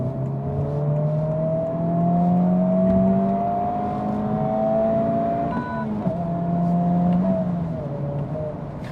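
A Honda Civic Type R FL5 cruising on a highway, its engine and road noise forming a steady droning hum with gliding tones that rise and fall as it pulls along, heard from inside the cabin without talk.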